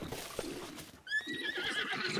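A horse neighs in Breath of the Wild, a clear whinny rising over faint hoof clip-clop and game ambience, with the call breaking out strongly midway through.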